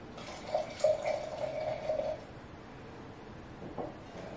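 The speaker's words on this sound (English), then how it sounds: "I'm going to pour this and give it a try." Love Cork Screw Riesling wine pours from the bottle into a glass in a close, splashing stream lasting about a second and a half, then trails off into quiet room tone.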